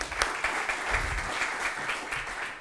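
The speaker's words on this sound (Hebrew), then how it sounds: "ובאמת מגיע לו מחיאות כפיים," Sustained audience applause after a lecture on Tel Aviv high-rise construction, a dense steady patter of many hands clapping in a hall for the full length, with no talking over it.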